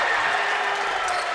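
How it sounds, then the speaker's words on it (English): Crowd noise in a high school basketball gym during a Class A quarterfinal boys' game, a brief sustained roar of cheering and clapping that fills the clip, with a voice talking over it. "That got the crowd going"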